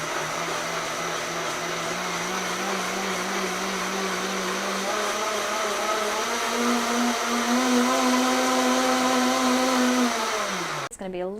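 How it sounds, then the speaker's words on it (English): A blender grinds cashews for a plant-based broccoli cheese sauce with a loud, steady motor whine that rises slightly in pitch partway through, then winds down abruptly near the end. "Make sure all your cashews are all grounded up."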